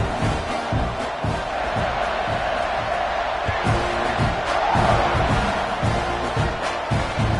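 A football stadium crowd roars steadily just before kickoff, a dense, continuous wall of cheering and shouting with occasional louder swells and thuds, with no break across the span.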